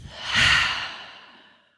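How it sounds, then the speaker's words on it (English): One long, deep breath pushed out through the mouth during a relaxation exercise, swelling to a breathy peak and then trailing softly away, close and alone. "Exhale out of your mouth."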